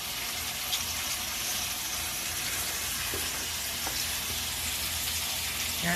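Food frying in a pan on a home kitchen stove, a steady close hiss of sizzling with faint crackles and a few small pops, no talking over it.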